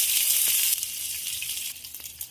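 Onion dropped into hot oil left from frying fish, tempered with black cumin, bursts into a loud hiss that settles into a steady crackling sizzle, with a couple of light stirring taps.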